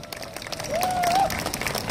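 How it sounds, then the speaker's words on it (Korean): Audience applause at a National Foundation Day ceremony, a soft patter of clapping from a crowd lasting about two seconds at moderate distance. "박수로 맞아주시기 바랍니다."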